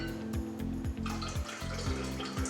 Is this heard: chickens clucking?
no